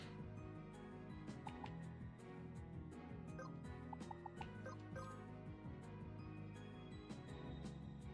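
Chicken clucking from the video game Crystal Project, short repeated clucks over continuous game music, fairly quiet and steady throughout with no talk.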